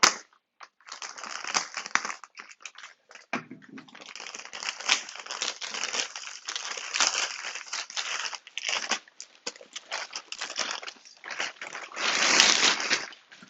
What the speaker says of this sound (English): Let's just cut open this bag.